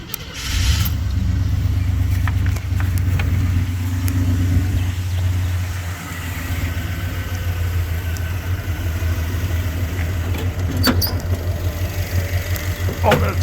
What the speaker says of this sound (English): So we're gonna start it up.